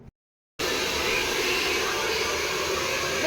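Hair dryer blowing during a haircut and styling session, a steady loud roaring airflow that starts abruptly after a short silence and holds constant, close and without talk.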